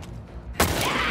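A single gunshot in The Last of Us Part II rings out abruptly after a quiet stretch, loud and close, with a broad blast that stays sustained and echoing to the end.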